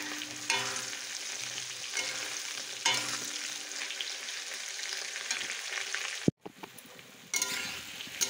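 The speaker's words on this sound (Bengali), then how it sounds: "আলুটা ভেজে নিচ্ছি" Potato pieces fry in hot oil in a pan for a Bengali fish curry, a steady close sizzle with repeated scraping stirs, briefly cut out near the end before resuming.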